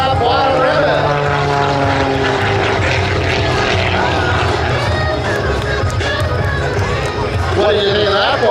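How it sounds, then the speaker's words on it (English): An aerobatic propeller airplane at an airshow flies low over the taxiway beneath a ribbon, its engine a loud continuous roar close by, with crowd noise and an announcer talking over it. "The tires are almost kissing the taxiway as she flies underneath and snaps that bottom ribbon."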